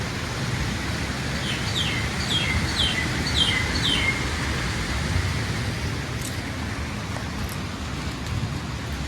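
Several birds chirp outside a house in Sri Lanka, a short run of bright repeated calls in the first few seconds, a few scattered chirps later, all over a steady broadband background hiss.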